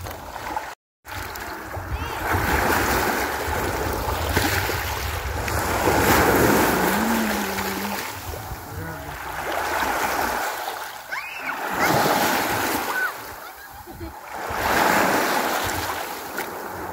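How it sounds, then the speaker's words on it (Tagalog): Strong sea waves surge and wash ashore at a beach resort in repeated swells, mixed with gusty wind buffeting the microphone, loud and close with no speech. "Malakas na yung alon."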